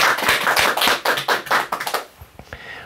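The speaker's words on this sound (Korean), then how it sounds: "큰 박수 부탁드립니다." Clapping from a small audience at a Buddhist talk comes as a string of distinct, evenly paced claps for about two seconds, then stops abruptly, leaving near-quiet.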